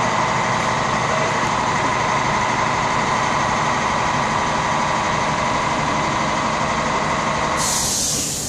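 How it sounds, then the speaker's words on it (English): Loud, steady mechanical drone of an air compressor running during staircase refinishing work, continuous and close, with the tone shifting as it winds down near the end. "Turn that air compressor off,"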